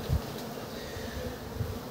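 Honey bees drone steadily at a hive used for raising drones, a dense close buzz with no speech over it.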